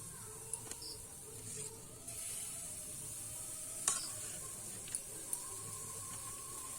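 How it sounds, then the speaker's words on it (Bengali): Batter for khirsa patishapta pitha sizzles quietly in a hot pan, a soft continuous hiss with a few sharp pops and crackles scattered through it. "এবারে কিন্তু আমি এখানে একটু ব্যাটার দিয়ে দেব"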